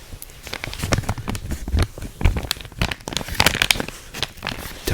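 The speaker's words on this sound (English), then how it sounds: "Definitely reminds me of butcher paper" Butcher-paper-style wrapping around a gift item is unwrapped and handled close up, giving a continuous run of crisp crinkles, rustles and small tearing crackles with no talking.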